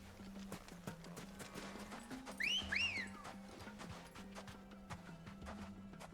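Steady clip-clop of a horse's hooves at a walking pace in Final Fantasy XVI, with a brief whinny partway through and a soft background hum.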